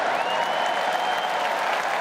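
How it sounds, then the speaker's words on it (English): A large Roland-Garros tennis crowd cheers and applauds in a steady, dense roar while doing the wave, late in the 2010 men's final between Nadal and Soderling. "Crowd just doing the wave."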